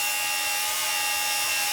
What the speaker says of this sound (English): So this is Tom's first time using a grinder